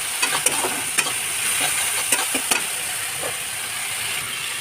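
Boiled kochu loti and shrimp being stirred in hot oil in a pan, a continuous loud sizzle and hiss broken by repeated scraping strokes of the spoon, close up, with no speech.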